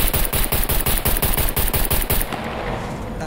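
Rapid 9mm pistol shots ring out in the Scum video game, roughly fifteen sharp reports fired in quick succession at a dropship, loud and close, then cutting off into a fading tail.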